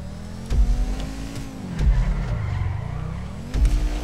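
In GTA 5 Online go-kart racing, a kart engine buzzes and revs close behind, with a steady droning motor and pitch rising and falling, plus a few sharp thumps.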